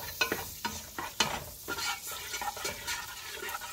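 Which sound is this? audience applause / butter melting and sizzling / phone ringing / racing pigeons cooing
butter melting and sizzling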